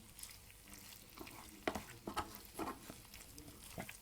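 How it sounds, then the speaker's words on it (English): A spoon stirs farfalle with tuna, mushrooms and cream in a pan: quiet, close scraping and a few soft clinks at an uneven pace, with a faint sizzle underneath. "I'm just going to stir it around for a while."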